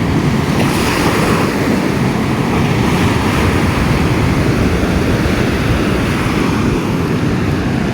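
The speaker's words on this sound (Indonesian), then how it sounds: "Ini namanya Pantai Silili" Ocean surf rolls steadily onto Silili beach in Yogyakarta, a continuous loud wash of breaking waves with wind buffeting the microphone throughout and no voices.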